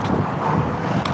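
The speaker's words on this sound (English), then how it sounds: "It's windy." Wind buffets the microphone in a steady, rumbling rush, no talking.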